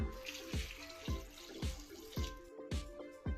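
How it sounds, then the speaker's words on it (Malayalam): Water glugs as it is poured into a cooker of potato curry, in regular gulps about twice a second, fairly quiet and close. "വേവാൻ ആവശ്യമായ കുറച്ച് വെള്ളം ചേർത്ത് കൊടുക്കാം"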